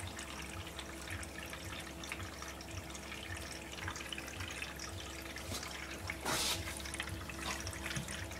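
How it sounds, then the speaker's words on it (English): Murky water running from a Topsflo solar pump back into a tank through a leaking fitting: a quiet, continuous trickle and splash under a steady low pump hum, with one brief louder gush partway through. "Messy water, but it's still running very well."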